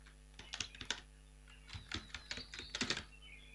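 Keys clatter on a computer keyboard in short quick bursts with brief pauses, close and fairly quiet, while a narration is typed into Tally Prime accounting software.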